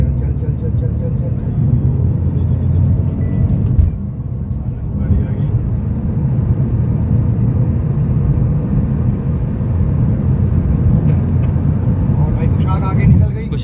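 Skoda Kushaq 1.0 and Toyota Corolla Altis 1.8 in a drag race, a steady engine roar and tire rush holding loud and close throughout, with voices talking over it.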